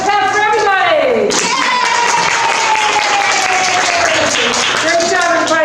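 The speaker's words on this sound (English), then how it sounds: "Now let's clap for everybody." A school honors assembly audience claps loudly and steadily for everybody, a dense close applause that carries on under a speaking voice.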